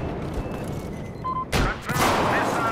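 Rocket launches and explosive blasts in the Battlefield 4 video game, with a loud burst about midway followed by sustained roaring noise over continuous background battle sounds.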